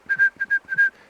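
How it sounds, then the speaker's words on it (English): A person whistles a short run of about six steady, clear notes in quick pulses, close and alone. "If you can whistle,"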